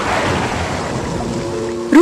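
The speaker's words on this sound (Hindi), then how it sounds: "बादल गरजने, बिजली कड़कने के साथ बारिश शुरू हो गई।" Steady rain with a low rumbling thunder roll in a dark horror-story storm scene, a continuous loud wash that ends in a brief sharper burst.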